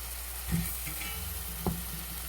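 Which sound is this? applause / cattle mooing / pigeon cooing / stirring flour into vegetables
stirring flour into vegetables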